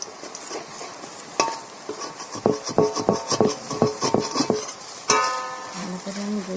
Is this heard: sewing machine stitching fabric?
no